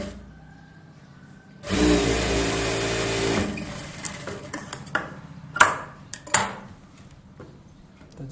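A sewing machine stitches a strip for a boat-neck princess blouse in one loud, close whirring burst of about two seconds, followed by scattered clicks and handling of fabric.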